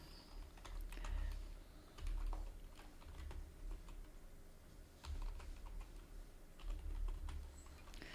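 Steady typing on a computer keyboard, quick soft key clicks in uneven runs with occasional heavier strokes, close and fairly quiet with no talking.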